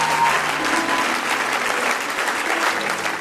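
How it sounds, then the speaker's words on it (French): An audience at a church service applauding, a dense, steady burst of clapping from a large room, loud and continuous throughout. "C'est bien quand tu acclames comme ça là"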